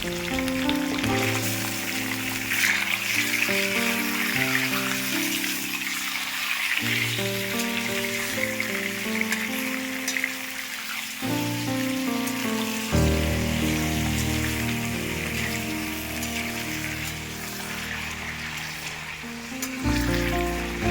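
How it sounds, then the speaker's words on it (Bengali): Steady sizzling of chicken frying in mustard oil in a hot wok, continuous and fairly close, with occasional stirring and a musical backing throughout; no one speaks. "এবার মাংসটা দিয়ে মাংসটা একটু ভেজে নেব।"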